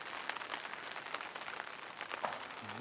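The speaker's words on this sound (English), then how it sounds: "Kitties don't like the rain, Ash." Rain falling outdoors among trees, a faint, steady crackling patter that runs unbroken throughout with no voices.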